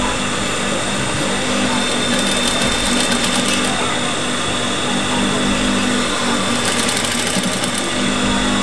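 A sewing machine stitches a doctor's lab coat with a steady, loud, close mechanical whir that runs without a break from start to finish, with faint rhythmic needle clatter inside the hum.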